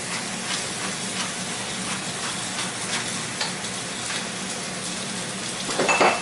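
Bacon frying in a pan, a continuous crackling sizzle with scattered pops, steady throughout and swelling slightly louder near the end.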